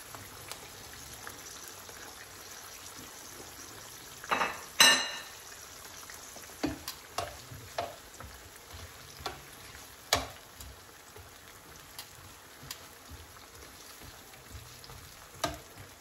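Onions frying in a pan for a taco soup, a steady sizzle with scattered stirring scrapes and clinks over about sixteen seconds, close and moderately quiet.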